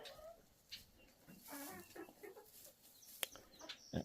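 Hens and a rooster cluck softly and intermittently near the listener while they eat and drink, with a few sharper calls and faint yard noise.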